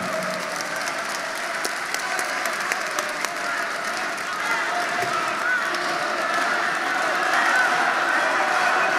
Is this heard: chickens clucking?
no